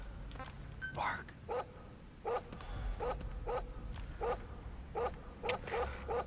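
A dog in the video game Metal Gear Solid 5 barks repeatedly in an even rhythm, about a dozen short barks over a steady game ambience.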